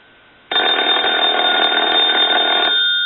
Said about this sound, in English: I'll turn the ringer down. I'll turn it back up.